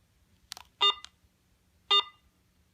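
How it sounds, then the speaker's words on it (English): A metal detector switched on gives a few short electronic beeps, two clear tones about a second apart after a faint click, in a quiet setting. "let me just turn my metal detector on"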